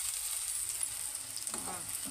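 Curry leaves hit hot oil in a pan with onions and green chillies, giving a bright, steady sizzle with faint stirring scrapes near the end.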